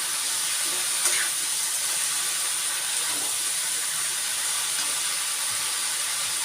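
Capsicum (shimla mirch) frying in a pan over a gas flame gives a steady, even hiss and sizzle throughout, with no talking.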